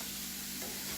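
Onions cook in a soup pot for an Olive Garden-style chicken gnocchi soup, giving a steady, close sizzle with a faint stirring texture, with no voices.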